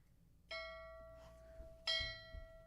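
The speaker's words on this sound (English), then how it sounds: "The bell means go back to work." A bell rings to signal the return to work, two clear, ringing strikes about a second and a half apart, each leaving a sustained tone that fades over a quiet background.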